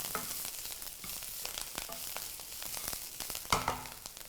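Finely chopped betel leaves fry in a pan on a gas stove over moderate heat. A soft, steady sizzle runs throughout, broken by crackles and light scraping from stirring, with one louder pop near the end.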